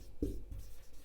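A teacher writes on a classroom board, two short scratchy strokes within about a second, close and fairly quiet with no talk.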